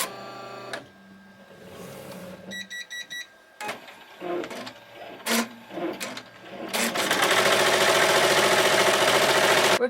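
An embroidery machine starts up with scattered mechanical clicks and short whirring bursts, then settles into steady, loud, rapid stitching up close.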